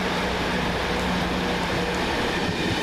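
A Virgin Trains East Coast passenger service from Leeds to London King's Cross passes at Doncaster station, a loud continuous rumble and roar of wheels on rails with steady low hum, close and unbroken.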